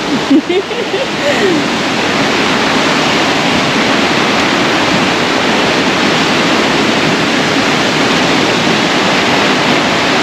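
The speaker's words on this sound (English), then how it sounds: "there's the first waterfall" A waterfall on a river in the Porcupine Mountains roars in a loud, continuous wash of rushing water close by, with a few brief voice sounds at the very start.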